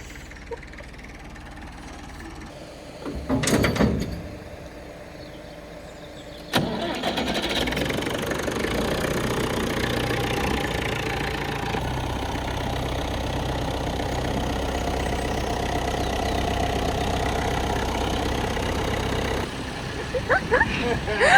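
A race car engine cranks briefly, then fires up and runs loudly at a steady pitch for a long stretch before cutting off, with a voice talking in the background.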